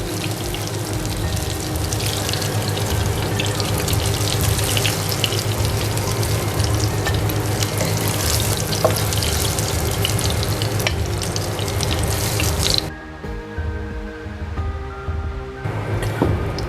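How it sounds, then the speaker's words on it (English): Meatballs of lamb, goat or beef fry in a pan with a steady, dense sizzle that runs loud and even for most of the time, then drops off sharply near the end, leaving quieter kitchen sounds. "I'm gonna fry the rest now."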